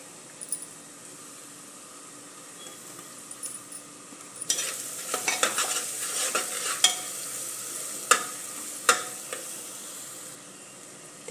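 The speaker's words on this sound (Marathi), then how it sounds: "ती चांगली परतून घ्यायची तेलामध्ये" Onion and ginger-garlic paste sauté in hot oil for a dhaba-style vegetable masala khichdi: quiet at first, then a burst of sizzling with scraping stirs and a few sharp clinks from the pan.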